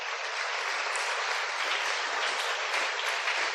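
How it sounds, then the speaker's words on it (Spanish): Steady, dense applause from a church congregation, loud and continuous for several seconds with no pauses and no voices over it. "Denle un aplauso bien fuerte al Señor."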